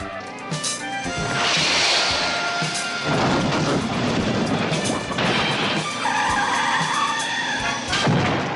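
Heavily armored cars in a TV car chase skid with loud, sustained tire squeals and roaring engines, with repeated bursts of screeching and rumbling close by and no talking.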